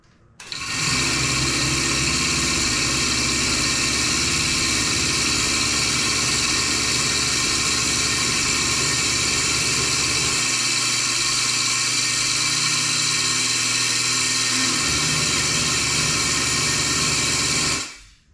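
A Melasty milk machine runs after being plugged back in, with a loud, steady motor hum and whine that shifts pitch partway through, close up and with no talking.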